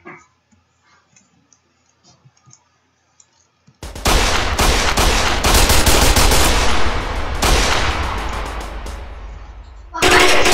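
Roblox shooter gunfire, loud sustained bursts of automatic shots up close after a few seconds of near silence, cutting off briefly and then resuming.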